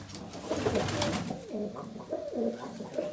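Red pigeons coo in soft, throaty, repeated rolling calls, close by, with a faint background hiss.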